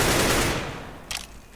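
A burst of automatic rifle fire from CS:GO sprayed at a blank wall, loud and dense at first, then tailing off, with one short extra crack near the end.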